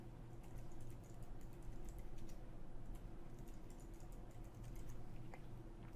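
Soft keystrokes on a computer keyboard as a password is typed during a macOS install in a virtual machine on a PC, faint and irregular over a steady low electrical hum.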